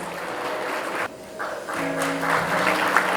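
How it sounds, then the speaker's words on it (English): Parents in the audience at a school annual day ceremony give a round of applause. The clapping is moderately distant and continuous, dips briefly, then swells again. "Let's give her a big round of applause, dear parents."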